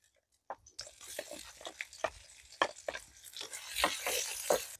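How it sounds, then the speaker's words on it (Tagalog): Onion, garlic and ginger sautéing in oil for ginataang munggo. A close, moderate sizzle starts abruptly, with repeated clicks and scrapes from stirring scattered throughout. "Gisa muna tayo ng sibuyas"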